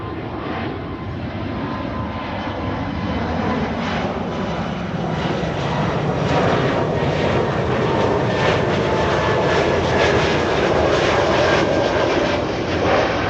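Embraer E2 jet airliner climbing out after takeoff at Amsterdam Schiphol Airport, a loud continuous engine roar that swells slightly and holds steady throughout, heard from outdoors with no talk.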